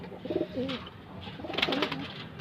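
A Cheena pigeon gives soft, rolling coos, two phrases close by with a quiet pause between them, over faint background hiss.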